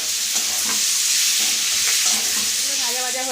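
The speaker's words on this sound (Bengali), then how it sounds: "ক্যাপসিকামটা একটু ভাজা হোক," Capsicum and onion fry in oil in a loud, steady hiss of sizzling close by, with light stirring scrapes and a voice briefly speaking near the end.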